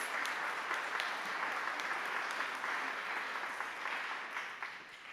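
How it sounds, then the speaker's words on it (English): A congregation at a worship service claps for its search team, steady diffuse applause from a crowd, fairly faint and distant, tapering slightly toward the end. "Let's give our search team a round of applause."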